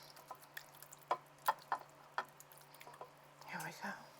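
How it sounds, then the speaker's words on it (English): Cheesy macaroni slides and plops into a baking dish in a home kitchen, a series of soft wet squelches and drips, close and quiet, ending in a longer mushy slump. "I'm going to start by pouring some pasta in my dish"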